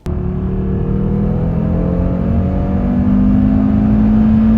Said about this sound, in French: faire un petit tour quand même, une dernière accélération, un dernier au revoir à ce 5 cylindres